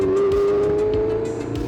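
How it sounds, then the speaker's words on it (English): A Ford DFV Formula One engine revs steadily at high pitch, loud and close, with a sustained tonal whine and slight fluctuation toward the end. "Engine, the DFV, so light underfoot and responsive."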